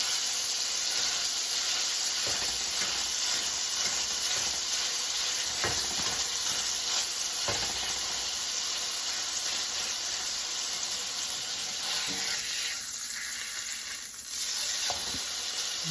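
A Mexican-seasoned beef patty sizzles in a hot skillet for smash burger tacos, with a loud, steady frying hiss throughout and occasional scraping and pressing sounds, easing slightly near the end.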